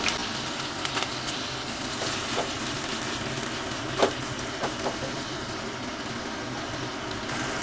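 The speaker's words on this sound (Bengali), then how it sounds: "এবারে আমি কিউব করে রাখা পনিরগুলো আমি ভেজে নিচ্ছি" Cubes of paneer fry in hot oil in a pan, giving a steady, close sizzle with scattered small pops and crackles throughout, with no voices.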